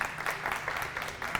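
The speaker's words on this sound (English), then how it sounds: "Can we have a round of applause for Hannah Kallady?" An audience applauds at a talk on copywriting, a steady, dense patter of many hands clapping throughout a short burst.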